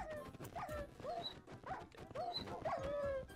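Dogs in the game Minecraft whimper and yelp in a run of short, whiny cries with a few bark-like notes, several in quick succession over faint background noise.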